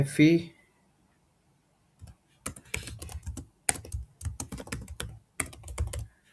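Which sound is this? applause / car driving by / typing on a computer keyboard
typing on a computer keyboard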